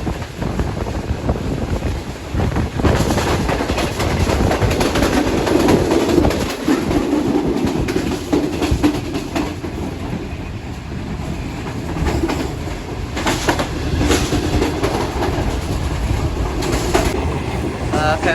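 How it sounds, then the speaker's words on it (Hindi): Steady loud rumble of the Shalimar Express, an AC parlour class train entering Faisalabad, heard from inside with rail clatter, rushing wind noise and a constant low roar throughout. "फैसलाबाद शहर में दाखिल हो चुकी है हमारी ट्रेन।"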